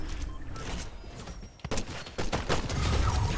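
Rapid bursts of gunfire from a mythic weapon in the video game Fortnite, loud and close, with a sharp impact midway and dense rattling toward the end.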